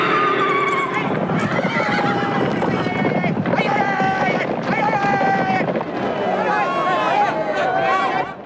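Horses neighing and whinnying repeatedly during a chariot race with a four-horse Gaulish chariot in an animated film, loud and close over rumbling race noise and hoofbeats.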